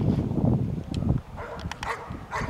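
A working dog barks to alert its handler that it has found a hidden person during a search exercise, giving a few short barks amid outdoor noise with no one speaking.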